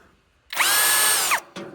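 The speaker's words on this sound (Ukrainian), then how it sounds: "Та сверлить чудово" A Stromo SA-18BL cordless drill drills holes: one loud, close burst of high motor whine lasting about a second, spinning up sharply and winding down at the end.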